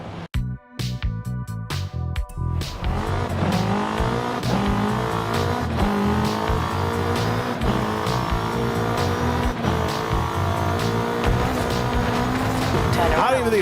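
A car engine in the Forza racing game winds down through its revs, a loud, continuous drone with falling pitch sweeps and some tire noise, while a voice talks over it.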